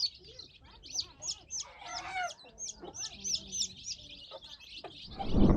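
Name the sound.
chickens (desi hens) clucking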